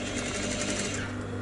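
A sewing machine runs steadily, stitching bias binding, with a continuous close mechanical whir and no break across the short stretch.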